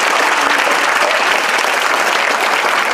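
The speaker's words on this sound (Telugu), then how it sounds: "అందరూ చప్పట్లు కొట్టండి ఒకసారి" School students applaud together in a hall, a dense, loud, continuous clapping that holds steady throughout.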